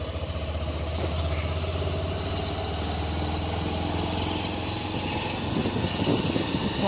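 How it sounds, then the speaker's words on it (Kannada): A motorbike engine drones steadily throughout, a constant low rumble with wind buffeting as it rides along, no one speaking. "ಹೋಗ್ತಾ ಇದ್ದೀವಿ ಡಿ ಮಾರ್ಟ್ಗೆ ಬೈಕ್ನಲ್ಲಿ"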